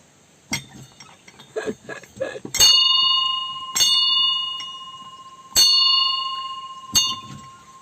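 A small bell is struck four times at a slow, uneven pace, each bright ring lingering and fading, after a short burst of speech.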